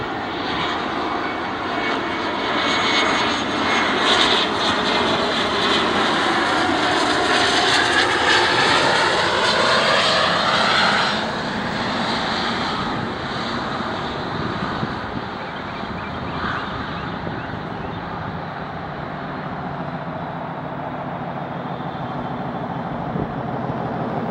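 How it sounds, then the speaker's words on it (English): A Bombardier Challenger 300 FlexJet business jet on approach to land passes with a loud, rising whine and roar that peaks around ten seconds in, then fades into a steady distant rumble; no voices. "Got a Bombardier Challenger 300 FlexJet coming in."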